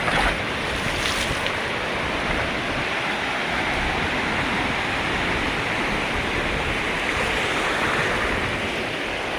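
Arabian Sea surf breaks and washes continuously on Benaulim beach in South Goa, a loud, steady roar of waves with wind and no voices.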